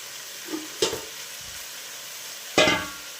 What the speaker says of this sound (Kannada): ಸ್ವಲ್ಪ ಚೆನ್ನಾಗಿ ಫ್ರೈ ಆಗಲಿ ಫ್ರೆಂಡ್ಸ್ ಇದು ಎಣ್ಣೆಯಲ್ಲಿ